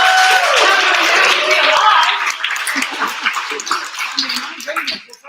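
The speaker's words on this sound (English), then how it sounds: "Clap it up for yourselves for being here." Audience at a women's brunch clapping, a loud burst of applause at the start that thins out after about two seconds into scattered claps, laughter and chatter.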